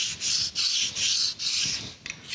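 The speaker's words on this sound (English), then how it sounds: "we'll take a stone here and deburr it" A sharpening stone rubs back and forth over a metal part of a metal planer's clapper box cross slide in a shop, a close, rhythmic rasping scrape in short repeated strokes.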